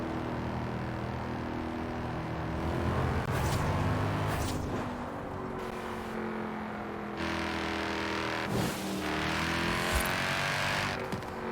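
A car engine in the racing game Forza Horizon 4 drones loud and steady while cruising, with rising and falling revs and gear shifts over a constant rumble.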